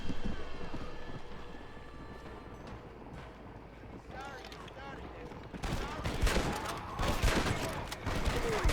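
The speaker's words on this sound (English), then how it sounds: "Get the bolt action rifle out and let's wreak some havoc here in Blackwater" Gunfire from a bolt action rifle in Red Dead Redemption 2, set in the town of Blackwater, amid game ambience and a voice talking, with sharp shots and commotion growing louder in the final seconds.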